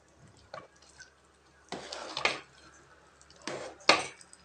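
A spoon scrapes and knocks against a pot while stirring a sweet mixture, several separate clinks and scrapes with quiet gaps between them, close by.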